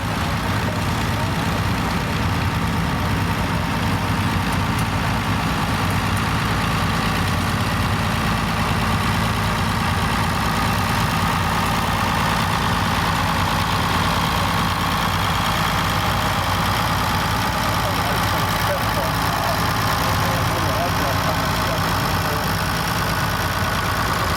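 A 1981 International 686 tractor idles steadily at a tractor show parade, a continuous low rumbling engine drone held for the whole stretch with no break, fairly close and loud against faint outdoor background.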